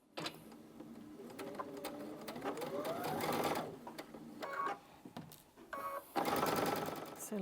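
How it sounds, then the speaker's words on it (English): A sewing machine stitches a quarter-inch seam through a puff quilt, running close by in several bursts of rapid whirring stitches with short pauses between them. "So let me just go and sew that 1/4 inch"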